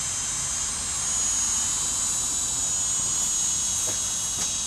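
A small toy drone flies outdoors, its propellers giving a steady whirring, hissing drone that holds at an even level throughout, with no talking.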